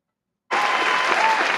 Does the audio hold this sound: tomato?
no